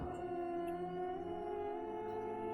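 Dog howling at night under a full moon, a long drawn-out wavering howl that rises slightly in pitch, carrying on alone over faint background noise.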